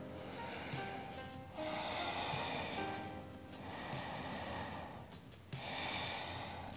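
Slow, deep breathing during a yoga session, long audible inhales and exhales rising and falling in a calm rhythm, close and fairly quiet with no talk.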